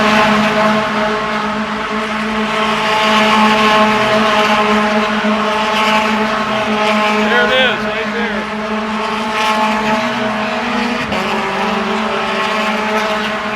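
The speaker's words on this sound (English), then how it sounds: "we want you to get a feel for what an active track sounds like while there is racing" Race cars lapping an active racetrack during a support race, a steady dense engine roar with rising and falling tones as cars pass at a distance, continuous throughout, with voices talking underneath.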